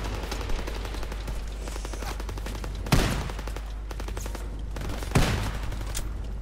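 Dense gunfire from a firefight in the video game Call of Duty WW2, with rapid machine-gun bursts and two heavier blasts over a loud, steady low rumble.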